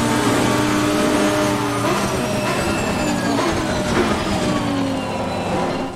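A race car in AC Competizione accelerates in the rain over a kerb, its engine a steady loud drone with rising harmonic whine throughout, close and continuous with no talk.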